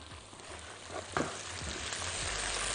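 Mushrooms sautéing in a pan for a stir-fry, giving a steady close frying sizzle with soft stirring scrapes and a brief clatter about a second in, no voices over it.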